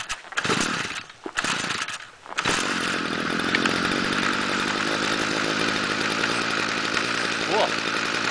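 A Stihl weed whacker runs steadily after a cold start at about 0°F in January. It comes in with a few short revs, then holds a loud, buzzing, continuous two-stroke drone near the listener.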